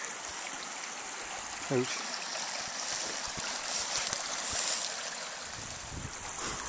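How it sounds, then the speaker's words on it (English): A small brook flowing outdoors, a steady soft wash of running water with a brief spoken word and some handling noises over it. "And then this little brook."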